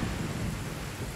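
Rain and low rolling thunder in the game Genshin Impact, a steady dense wash of rainfall under a deep rumble that runs without a break throughout.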